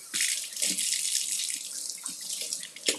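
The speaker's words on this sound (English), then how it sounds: "Let me wash my hands." Water runs steadily from a kitchen sink tap while hands are washed beneath it, a continuous close splashing hiss with small shifts as the hands move through the stream.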